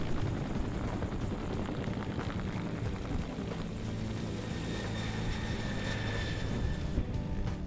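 A helicopter's rotor thumps and roars continuously at steady volume, a dense throbbing drone with no speech over it, during a summer flight in British Columbia, Canada.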